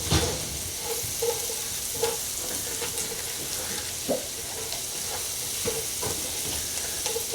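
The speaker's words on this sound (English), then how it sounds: "that's helping me to start deglazing this pan" Salmon fond and butter sizzling in a pan while being deglazed into a sauce, a steady close-up hiss broken by regular scraping stirs of the spoon across the bottom, no voices.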